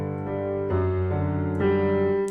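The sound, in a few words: piano playing last measure of a verse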